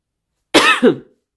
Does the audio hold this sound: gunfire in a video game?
no